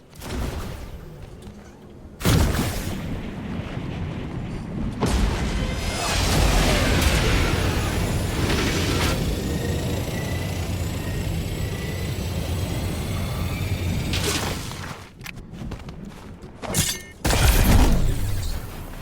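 Gunfire and explosive bursts from a Fortnite match near Masked Meadows and the mountain, a loud, sustained barrage of sound with sharper peaks near the start and end, heard without anyone talking.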